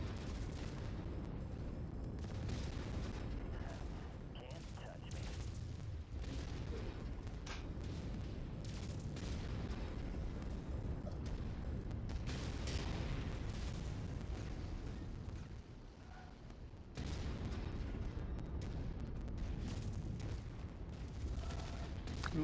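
Heavy AC-10 autocannon fire rolls out in MechWarrior 5, with repeated booming blasts and explosion rumble over the sustained noise of mech combat, loud and continuous.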